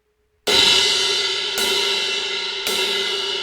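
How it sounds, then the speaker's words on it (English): A bright crash cymbal is struck three times in succession, each hit loud and close and ringing on with a long sustained shimmer into the next. "Notice it has a bright sound and it sustains. That cymbal just rings."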